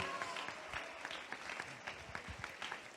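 An audience at a church congress applauds the worship team with fairly quiet, steady clapping that carries at a moderate distance, with scattered sharper claps throughout.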